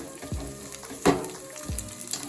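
Green chilies fry over high heat in oil in a pan for Ugadi chitrannam, a continuous close sizzle with a couple of scraping stirs and a sharp pop partway through.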